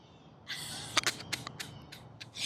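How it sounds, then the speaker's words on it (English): Birds call out at dawn, loud and close: a dense high chorus of chirps and sharp calls with repeated bursts of louder notes cutting through the steady song. "Do you hear how loud the birds are getting?"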